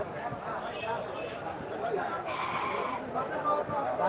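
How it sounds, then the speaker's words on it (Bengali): Goats bleat now and then amid a busy outdoor livestock market crowd at Gabtoli, Dhaka, with people talking and milling about close by throughout. "বেশ কিছু ছাগল দেখতে পাচ্ছি"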